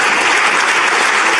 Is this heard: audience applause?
yes